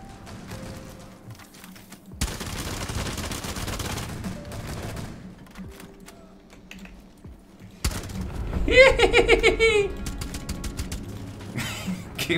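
Gunfire in a Rainbow Six Siege match: a single sharp shot followed by a quick burst of rapid, loud reports and mechanical clatter, preceded by quieter in-game movement and a player talking.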